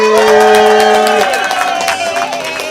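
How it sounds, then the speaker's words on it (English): Comedy club audience cheering and applauding, with a loud crowd roar and clapping under a sustained musical tone that fades partway through, then continuing cheers and whoops. "Let's give a big round of applause here, my friends."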